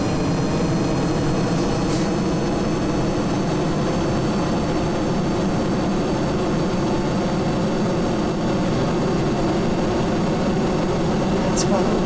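Steady, continuous drone of a plane engine during takeoff in the video game Kerbal Space Program, loud and unchanging across the whole stretch.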